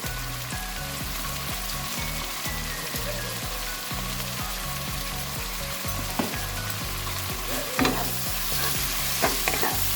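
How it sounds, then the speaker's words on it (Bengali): Chicken pieces fry in a hot pan with Kashmiri chili powder, loud continuous sizzling broken by regular rhythmic scraping strokes of a spoon stirring the meat, close up and without any voice. "আমি মাংসটাকে ভালো করে কষিয়ে নেব।"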